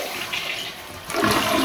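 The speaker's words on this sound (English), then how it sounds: "So flush again." A freshly reinstalled toilet flushes after its float valve is adjusted, a steady rushing of water that swells louder and more turbulent partway through, close by with no talk.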